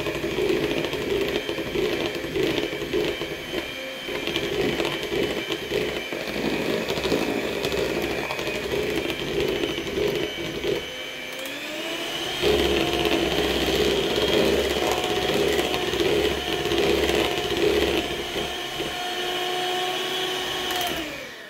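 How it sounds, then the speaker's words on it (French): Electric hand mixer beating flour into a dough of a little over 200 grams of flour, a steady motor whir with rattling beaters that shifts pitch partway through, running continuously and close without any talk. "Alors j'aurais très bien pu le mélanger à la main, mais c'est tellement plus facile au batteur."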